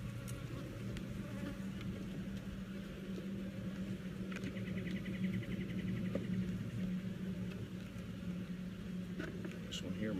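Honey bees buzzing around a backyard beehive while the hive is checked for honey, a steady, fairly faint, close hum with individual bees droning past, and a voice speaking in the background.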